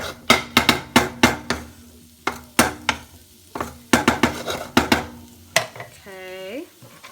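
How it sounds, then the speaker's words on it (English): Refried beans are stirred in a pot, a spoon knocking the pot in quick uneven bursts, loud and close, with a short voice near the end. "So we're mixing."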